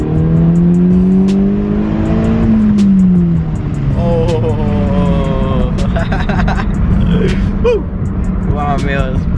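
A car engine revs hard and accelerates, its loud rising and falling tone running steadily under excited talk throughout.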